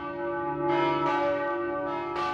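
Church bells ring with several struck tones overlapping into a sustained, resonant peal, heard at a moderate distance without any talking.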